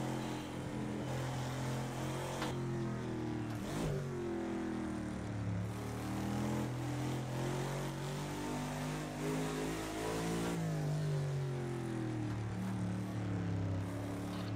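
A Lotus 40 race car engine revs hard in a VR racing game at night on the Nürburgring, loud and droning, climbing and dropping in pitch through gear changes and corners without any talk.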